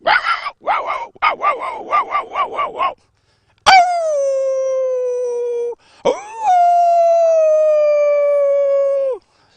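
A person imitates a wolf with rapid barking yips, then two long, drawn-out howls that slowly fall in pitch, loud and close.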